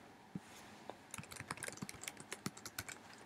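Keys on a computer keyboard clatter in a quick, uneven burst of close, quiet taps, starting sparse and then running steadily, with no talk.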